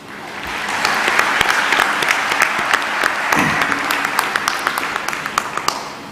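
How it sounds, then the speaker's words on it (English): Graduates and guests at an ANC Education graduation ceremony break into loud, sustained applause that fills the hall, with sharper individual claps standing out near the end. "So give yourselves a good round of applause."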